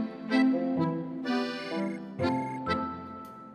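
A mobile phone rings with a melodic electronic ringtone, a repeating sequence of bright tonal notes playing alone at moderate volume, with no voices over it.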